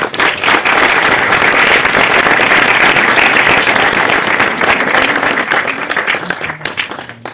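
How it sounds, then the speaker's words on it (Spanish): An audience at a screenwriting pitch event bursts into loud, dense applause that holds strong for several seconds, then thins into scattered claps near the end. "Entonces también les pido un aplauso, por favor."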